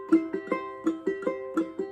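Clawhammer-style ukulele strumming the opening of the gospel song I'll Fly Away, with a steady bouncing rhythm of plucked notes and brushed strums, close and clear with no voices.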